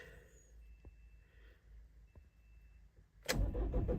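An old Ford Transit Connect van with a troublesome alternator fires up: a few faint starter clicks and a quiet whine, then the engine catches abruptly near the end and settles into a loud, steady idle.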